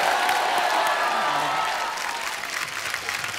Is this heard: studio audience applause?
yes